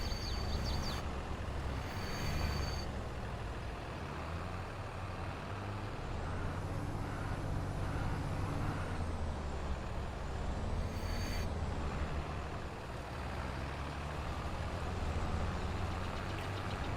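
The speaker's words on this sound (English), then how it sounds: "That truck sounds horrible." A truck engine in the Farming Simulator 22 game runs with a steady, loud, harsh drone, broken by a few sharp air-brake hisses early on and again midway.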